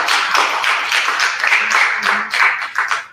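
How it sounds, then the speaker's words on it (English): Audience members clap after a talk on traditional children's games in India, a short stretch of steady clapping with a voice briefly audible beneath it. "And a round of applause."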